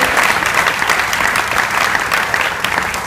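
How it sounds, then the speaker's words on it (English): Dense, steady applause from a panel audience at an innovation academy event fills the space evenly, loud and close, with no pauses for its full length. "Give a big applause to Pascal"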